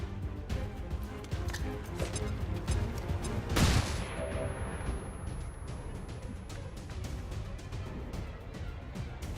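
Flashbang grenade bursting amid sustained gunfire in the XCOM 2: War of the Chosen strategy game, with a dense wash of shots and one loud bright blast near the middle standing out above the rattle.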